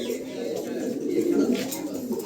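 Pigeons kept for wholesale sale coo nearby in low, throaty, rolling calls that carry on steadily without a break.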